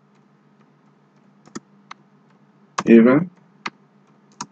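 Sparse keystrokes on a computer keyboard while a C program is being typed, a few isolated clicks spaced apart with a short spoken word in the middle.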